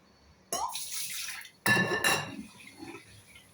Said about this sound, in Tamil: இந்த தண்ணியை கீழே ஊற்றிடுவோம்